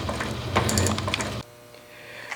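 A metal shaper taking a cutting pass on a drill press vise part, a close mechanical chattering rumble that stops abruptly midway, leaving a faint hum.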